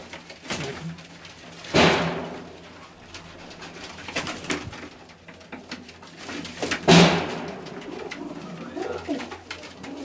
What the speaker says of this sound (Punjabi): ਇਹ ਮੇਰੇ ਕੋਲ ਸਲਾਰੇ ਕਬੂਤਰ ਨੇ ਉਹਨਾਂ ਦੇ ਬੱਚੇ ਮਾਸ਼ਾਅੱਲਾ